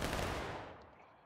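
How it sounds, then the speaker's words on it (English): A single musket shot in the Civil War battle game War of Rights, heard as one loud, broad crack that fades over a second into a dwindling echo, with no talking. "Nice little shot there from behind us, sir."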